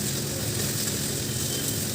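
Okra fritters coated in cornflour and gram flour frying in hot oil: a steady, dense sizzle that holds constant throughout, near and fairly loud, with no voices.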